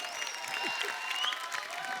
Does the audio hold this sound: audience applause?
yes